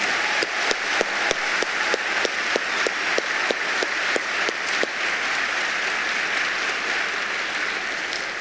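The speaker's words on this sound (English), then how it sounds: "So please join me in a round of applause for serving their country and their community." A high school senior assembly audience applauds, with a loud, close clapper keeping a regular beat over the crowd's wash of clapping at first, then the applause thins into a softer, even patter.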